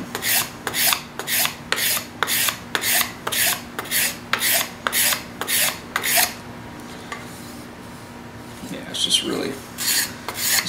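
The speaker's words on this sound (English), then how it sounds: "Scraper just gives it that extra little touch, extra little finish." A steel scraper drawn along a hand-carved wooden spoon gives a steady run of short, close, rasping strokes, about one every half second, before trailing off into softer scratching and handling noises.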